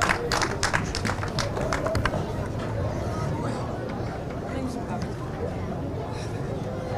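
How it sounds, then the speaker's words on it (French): Audience applause for a female delegate at a public gathering: steady clapping from a crowd, strongest at the start and settling into a continuous patter under crowd chatter. "encouragement et applaudissements, s'il vous plaît, encore pour Madame la déléguée"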